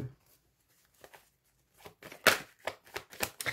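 Tarot cards are shuffled for a reading, with soft riffling and flicking bursts that start sparse and faint and then become quicker and louder near the end, close to the listener.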